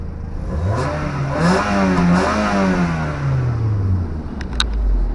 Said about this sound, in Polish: słychać, że jest sportowy wydech